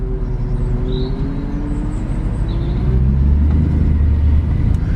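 Salvage Mercedes C63 engine idling and pulling away, a steady low rumble that swells slightly as the car moves off, heard close up with no talk.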